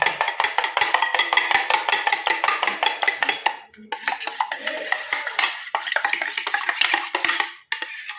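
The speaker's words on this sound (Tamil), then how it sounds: "இப்போ நம்ம வந்து நல்லா மிக்ஸ் பண்ணிடுவோம்" A utensil briskly whisks an egg mixture in a bowl for masala buns, producing rapid, steady clinking and scraping against the bowl that runs continuously with a brief pause midway, close and fairly loud with no talk.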